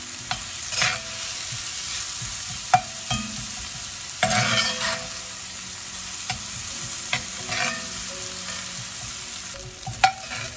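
Chopped onions sizzle and fry in a pan while a utensil stirs and scrapes them now and then, a steady close crackle broken by occasional clacks and shuffles, with no talking.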